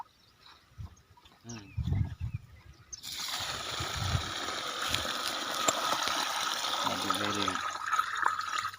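Water poured from pots into a drum on a farm plot, starting with a few splashes and clanks, then a sustained loud gushing fill for the remaining seconds.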